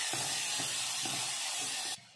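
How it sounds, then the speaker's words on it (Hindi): Onion, garlic and chopped green chilli with cumin and asafoetida frying in desi ghee, a steady loud sizzle with faint periodic stirring taps, cutting off abruptly near the end. "अब इसको भूनते हैं।"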